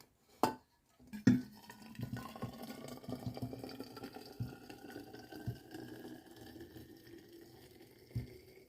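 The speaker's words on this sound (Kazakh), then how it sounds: "кипяток құямыз дегенде." Two sharp knocks are followed by a faint, steady trickle as boiling water pours over barberry in a container, the stream running softly for several seconds with a small clink near the end.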